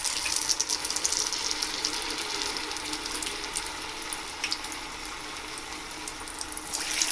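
Aloo bhakarwadi samosa pinwheels fry in hot oil over a low flame, giving a steady, close hiss and bubbling sizzle with faint crackles that runs alone throughout.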